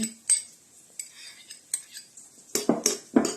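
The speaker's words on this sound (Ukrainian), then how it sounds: "Перемішуємо." Spoon stirring crushed garlic into a thick burger-style sauce in a bowl, several sharp metallic clinks and scrapes against the dish, close and clear, with quiet pauses between strokes.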